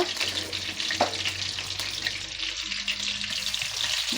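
Oil and butter heat in a pan for sweet corn fried rice, giving a soft, steady sizzle and frying crackle with faint watery hiss throughout, with no talking over it.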